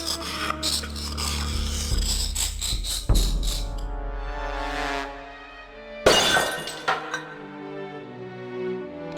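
Glass in a display cabinet in Discworld Noir is scored with a troll's tooth, then smashed: a harsh rasping scrape, a loud shattering crash around midway, then a second crash with tinkling shards settling, over a low musical score.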